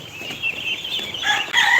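Chickens cluck and murmur close by on a rainy day, with steady rain hiss underneath and a few sharper calls rising near the end; no one speaks.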